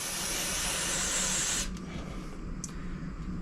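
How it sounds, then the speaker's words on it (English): Loud, continuous aerosol cleaner spraying close by onto a Briggs & Stratton carburetor float for about a second and a half, then cutting off, leaving faint clinks and room noise. "Now for your float, spray your float off."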